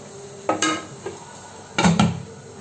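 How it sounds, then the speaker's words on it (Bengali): A lid set onto a cooking pot of Kashmiri mutton rogan josh, giving a few close metallic clanks and rattles, two sharper clatters, then a heavier settling clank, loud against a faint background hiss. "ঢাকনা দিয়ে দিলাম, হতে থাকুক।"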